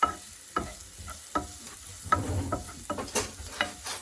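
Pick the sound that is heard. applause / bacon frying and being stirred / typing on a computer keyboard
bacon frying and being stirred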